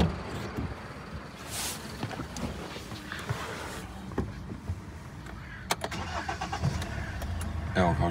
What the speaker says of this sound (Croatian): Sad ću vam pokazati kako auto radi.